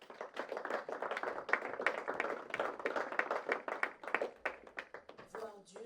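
A church congregation claps rhythmically in praise of the Lord, a steady run of sharp hand claps close by, mixed with voices, fading slightly near the end.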